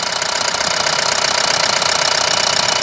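A Mahindra Bolero Maxi Truck Plus diesel engine runs steadily after starting, a loud, even knocking idle with a dense hiss on top that carries on alone with no talk throughout.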